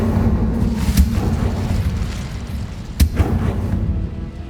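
Fiery spell blasts in Hogwarts Legacy: a continuous low rumbling roar of magical flame with two sharp booming bursts about two seconds apart, loud and close.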